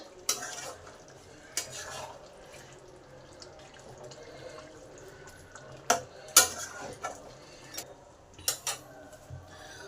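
Chicken rezala is stirred in a pan after kewra water is added, with soft sizzling under scattered close clanks and scrapes of a spoon against the pan.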